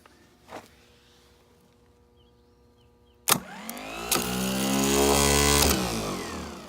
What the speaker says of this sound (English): now the last test would be basically solenoid and motor together